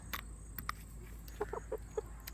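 Several short, soft hen clucks spaced irregularly over a steady background hiss, fairly close and not loud.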